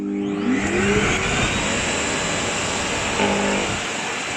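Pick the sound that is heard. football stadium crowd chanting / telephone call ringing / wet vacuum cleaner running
wet vacuum cleaner running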